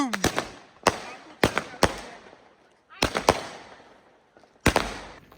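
Firecrackers set off outdoors during a Diwali celebration in London crack in sharp, loud bursts, singly and in quick clusters of two or three, with short pauses and fading echoes between them.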